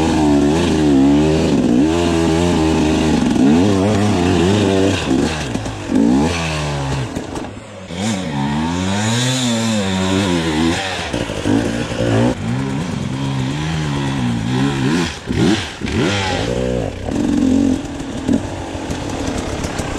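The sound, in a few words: enduro motorcycle riding off-road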